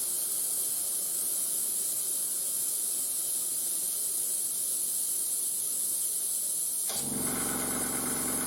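An airbrush sprays paint with a steady, continuous hiss that runs close and alone for about seven seconds, then shifts abruptly to a lower-pitched, harsher hissing flow near the end.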